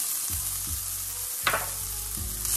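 Ginger hits hot oil in a pan with a sharp sizzle and a brief louder hiss midway over a low background hum, short and close.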